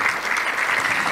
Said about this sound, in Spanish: Creo que amerita un aplauso esto,